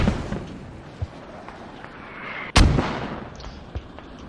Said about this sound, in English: I think a much more effective use of those mortars would be just drop them on the hab